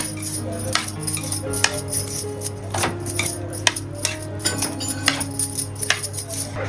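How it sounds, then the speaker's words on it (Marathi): A metal spoon clatters and scrapes against a pot while vegetables are stirred and a lid is handled, giving sharp, irregular clinks and knocks over a low steady hum in a home kitchen. "ढवळून आणि जरा वाफेवर हे करूया. झाकण ठेवूया त्याच्यावर आपण."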